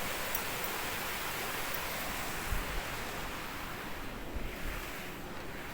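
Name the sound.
river water rushing through an opened dam gate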